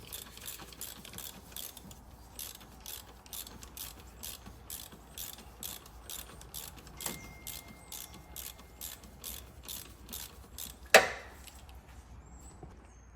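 A ratchet on a wobble extension loosens bolts on a Porsche 911 Carrera 4S, giving a steady run of close, rapid clicks with one sharp metallic clank near the end.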